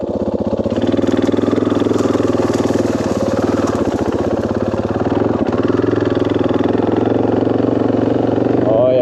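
A 500 motorcycle engine running steadily while riding toward a beach, a loud continuous mid-pitched drone with a slight throttle rise near the end.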